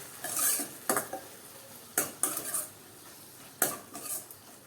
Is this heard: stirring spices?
yes